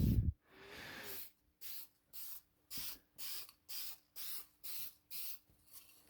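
Aerosol spray can laying paint onto the underside of a Ford's fuel tank, one long hiss followed by eight short, evenly spaced bursts, close and loud with no talking.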